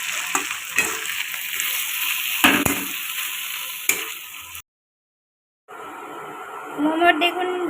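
Momo filling with chopped green chili and coriander stirred in a hot pan: steady close sizzling and frying with scraping stirs, a short silent break, then the sizzle resumes with utensil clinks.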